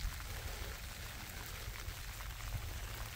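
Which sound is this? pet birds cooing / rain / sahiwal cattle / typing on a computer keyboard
rain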